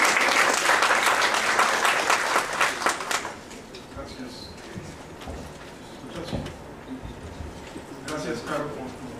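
A hall audience at an academic talk applauds strongly for the first few seconds. The clapping then thins to scattered claps while pigeons coo nearby.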